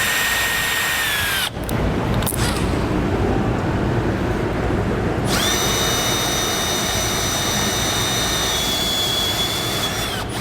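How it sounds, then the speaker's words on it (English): A step drill bit cuts a hole in the steel frame of a 2021 Jeep Gladiator, a loud, steady, high-pitched power-drill whine with a brief pause before it resumes and runs continuously. "Now I'm going to do a step bit. I'm going to start with a small one."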